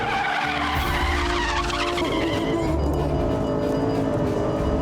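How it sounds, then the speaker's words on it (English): Tires squeal loudly as a rear-wheel-drive car with traction control off slides into oversteer, a continuous skidding screech over engine roar that shifts pitch midway through. "And hey presto, we have oversteer."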